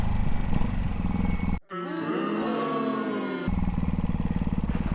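A Ducati Hypermotard 698 motorcycle being ridden gives a loud, close engine roar that drops out briefly, then returns as a rising rev and a pulsing, throbbing run, with wind noise and no talking.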